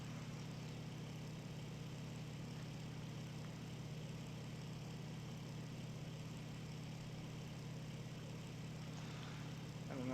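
A steady drone from the engine of an F4U-1C Corsair in the IL-2 flight simulator, with prop pitch pulled back while the engine runs hot. The tone holds even and continuous throughout, with no talk.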